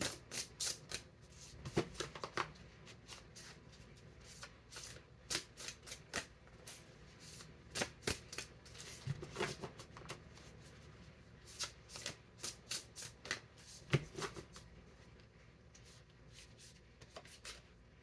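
A thick deck made of three or four card decks combined is shuffled over and over, with quick papery riffle bursts and soft clicks repeating in an uneven rhythm, close and fairly quiet, with no voices.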